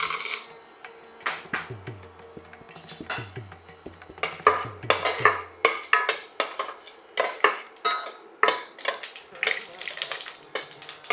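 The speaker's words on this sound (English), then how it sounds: "Once the oil is hot, first goes groundnuts." Groundnuts fry in hot oil in a pan, with quiet clinks followed by rising bursts of rattling, scraping clatter as they are stirred and tossed, close and repeated.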